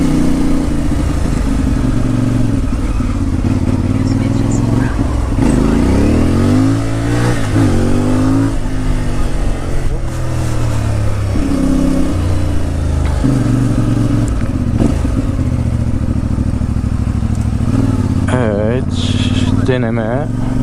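A CF Moto 450 MT motorcycle pulls away in first gear, its engine rising and falling in pitch through several short accelerations over low rumble, with someone talking throughout.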